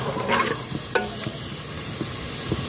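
A spoon scrapes and stirs pounded chili, shallot and garlic paste into a pot of Thai curry with a few clinks, over a steady sizzling hiss of hot liquid.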